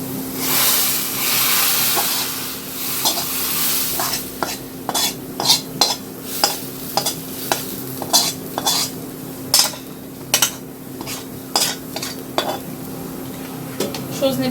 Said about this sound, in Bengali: ডালটাতে বাগার দিয়ে নিই।